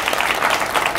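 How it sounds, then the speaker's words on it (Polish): A studio audience gives loud, close applause for a guest, a brief burst of dense clapping heard alone. "Prosimy o wielkie brawa."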